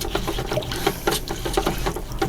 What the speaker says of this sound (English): let's rinse out this brush.